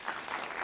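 A brief, soft burst of audience applause at a food and agriculture policy summit, a short wash of scattered clapping heard alone without speech.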